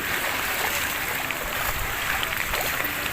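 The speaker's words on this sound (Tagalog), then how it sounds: "yung mga street dito lubog sa tubig baha" Flood water covering a street during a typhoon in Sta. Rosa, Laguna, heard as a steady, loud wash of rushing and sloshing water. Faint splashes come and go within it, with no clear talk.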